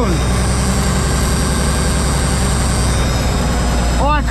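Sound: cold diesel truck engine running at fast idle

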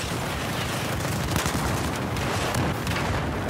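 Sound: gunfire in the video game Battlefield 4

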